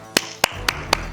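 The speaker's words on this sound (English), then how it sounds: "call their name and clap to get their attention" Four sharp hand claps spaced evenly about a quarter second apart, made indoors in a room to get a cat's attention, close and crisp with quiet between them.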